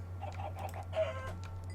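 A chicken in modded Minecraft clucks in a short run of soft, quick calls, close but modest in level over a steady low hum.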